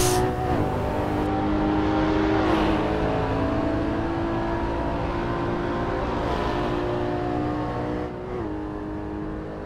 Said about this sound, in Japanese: ヘルマノス・ロドリゲスサーキット987ボクスターマニュアル ABS トラコンなしで走ってみました。